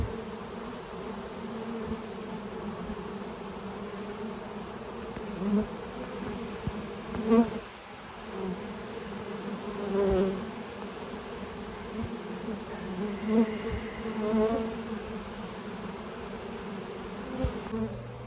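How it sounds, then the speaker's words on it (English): A steady, dense buzzing of many honey bees around a hive fills the air continuously, with individual insects swelling louder as they pass close by. "These bees over here are starting to move toward the box."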